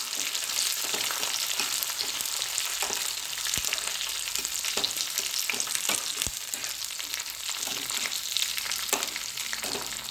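Ingredients for payasam pradhaman sizzle steadily in a pan while being fried without burning, a continuous close hiss broken by scattered clicks of stirring.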